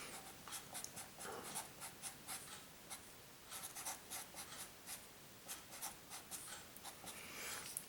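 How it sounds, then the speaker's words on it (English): Pen strokes scratch across paper in a steady run of short scrapes while a calculus limit is written out, close and soft, with brief gaps between marks and no talking. "let me write this first"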